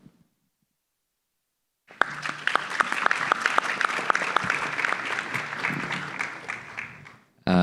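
Audience applause breaks out at a conference closing ceremony, a sudden burst of many hands clapping steadily for over five seconds, fairly close, then tapering off as a voice begins.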